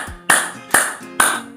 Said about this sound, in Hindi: लगातार ताली पे ताली बजाएं